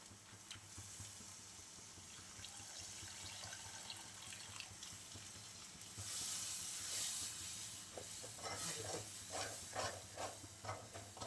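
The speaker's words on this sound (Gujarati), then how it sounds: "હવે આપણે એમાં અમૂલનું દૂધ નાખીએ" Amul milk poured into dudhi (bottle gourd) halwa cooking with ghee in a hot pan, a soft steady stir at first, then a rising hiss and sizzle with bubbling and scraping, quiet and close, with no talk.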